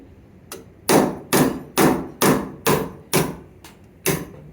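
Hammer strikes on copper pieces being shaped into a copper rose, about eight sharp evenly spaced blows with a metallic clang, close and fairly loud, no voices.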